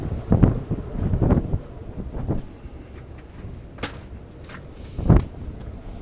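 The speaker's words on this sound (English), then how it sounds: "It's a little windy." Gusty wind buffets the microphone in rough bursts in New York City, strongest near the start and again toward the end, with no speech.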